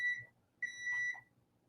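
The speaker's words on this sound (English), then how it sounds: "Beep." Two clean electronic beeps from a kitchen appliance, one short and one longer, steady in pitch and faint against a quiet room.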